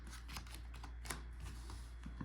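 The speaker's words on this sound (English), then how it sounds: "I'm gonna shuffle really good here" A 60-card Yu-Gi-Oh deck being shuffled by hand, a quiet run of soft riffling clicks and taps over a low steady background hum.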